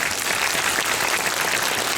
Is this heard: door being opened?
no